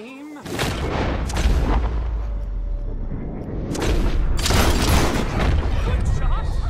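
Gunshots at bottles in Red Dead Redemption 2 come as heavy, booming reports with crackling debris, a first volley followed a few seconds later by a second one, with voices in the background.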